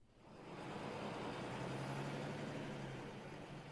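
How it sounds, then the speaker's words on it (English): A bus driving along a road in Senegal, a steady low engine rumble with road noise that swells in and holds evenly, with no voices. "You're on the bus with us right now"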